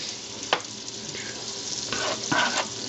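Onions frying in olive oil and butter for French onion soup, a close, steady sizzle with scattered pops and a few stirring clatters, growing busier toward the end, no one talking.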